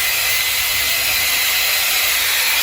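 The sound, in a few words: Dyson AirStrait hair dryer blowing air on highest setting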